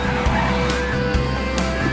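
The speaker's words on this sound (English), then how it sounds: "That's the Google autonomous car." A Google autonomous car's tires squeal in a loud, sustained screech that surges in repeated bursts, with engine noise underneath and no voices.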